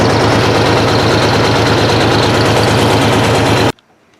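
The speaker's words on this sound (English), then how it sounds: "I've got to get this tractor out of the way so we can have the party." A Ford 730 loader tractor engine runs loud and steady with a heavy low rumble and rhythmic knock, then cuts off abruptly near the end, leaving near silence.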